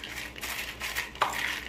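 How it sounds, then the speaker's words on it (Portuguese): Crunchy caramelized sweet popcorn snaps and crackles as clusters are broken apart by hand, giving a few brittle crackling bursts, the sharpest near the end, close and fairly quiet. "conforme ela vai esfriando, é só soltar ela aqui, já dá pra escutar o barulhinho do crocante"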